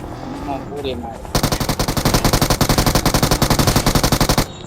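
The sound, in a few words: gunfire in the video game PUBG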